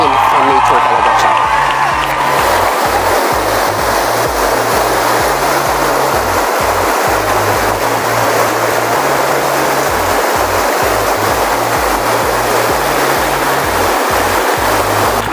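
Steady rushing water of a mountain river fills the scene, a continuous broad wash, with a low rhythmic thumping running underneath throughout.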